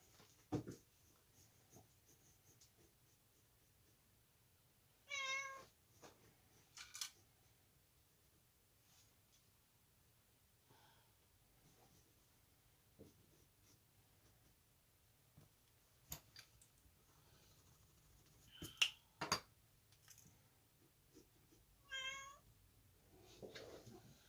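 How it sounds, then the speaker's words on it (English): A cat meows several times, a few drawn-out calls separated by long quiet stretches, close by, with soft rustles and breathing in between. "I do apologize for her meowing."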